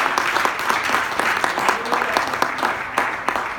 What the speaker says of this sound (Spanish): Si usted ama al Señor, denle un fuerte aplauso.